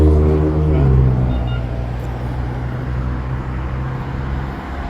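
A light rail train in downtown Phoenix rumbles past nearby, a loud low drone that peaks early and then eases into steady rolling noise with street traffic around it.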